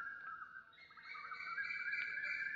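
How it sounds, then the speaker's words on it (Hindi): An Asian koel calls at around six in the morning. Its clear, faint, rising whistles repeat several times from a distance over quiet surroundings, with no talk. "ले जी कोयल की आवाज देख।"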